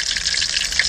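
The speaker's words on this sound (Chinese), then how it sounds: "干红辣椒下锅爆香" Dried red chilies sizzling in oil in a hot wok, a steady, bright crackling hiss that stays close and continuous.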